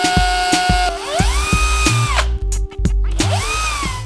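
A power drill bores pilot holes in wood for brass hinge screws on a cabinet door, with loud, close whining bursts that rise and fall as the motor spins up, bites and releases, broken by short pauses.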